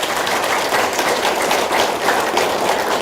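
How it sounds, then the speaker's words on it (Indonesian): A seminar audience claps loudly and densely during a business testimonial event, a continuous wash of many hands that holds an even level from start to finish with no speech on top. "tepuk tangan yang paling kencang"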